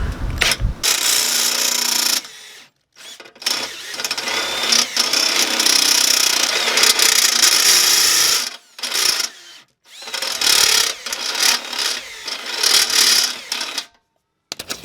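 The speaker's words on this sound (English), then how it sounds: "Hopefully this will drill without any trouble" Loud, harsh whine of a power drill cutting through the bumper metal of a 2005 Subaru SG Forester, running in several bursts separated by brief pauses.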